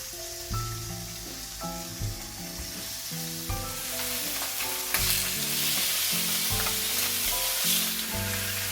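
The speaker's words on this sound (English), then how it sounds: "it's time to heat up a pan with a little drop of oil. And we're going to fry these off until they're golden brown each side" Pork chops fry in a little oil in a pan, a close, continuous sizzle that grows denser and louder midway, with occasional pan knocks and shuffling underneath and no one talking.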